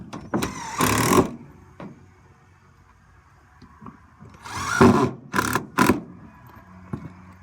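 A power screwdriver drives screws into metal roof clips, with short whirring bursts of the motor at intervals, some close and loud and others quieter, separated by pauses.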